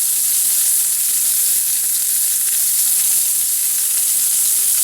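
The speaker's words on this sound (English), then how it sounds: "we're going to repeat this until all the beef is brown" Pieces of beef for a pot roast sizzle and fry in a pan, making a loud, steady, dense crackling hiss close up. No voices are heard.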